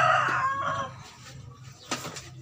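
A rooster crows nearby, its drawn-out call loud at first and then fading, followed by a brief clatter and quieter background noise.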